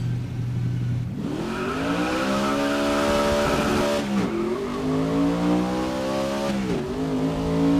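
Holden Commodore racing engine in the video game GRID 2019, idling before roaring up through repeated loud revving climbs and gear changes, with tire squeal, continuous and close with no talking.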